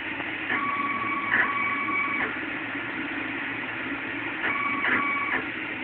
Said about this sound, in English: You can hear the motor in the back.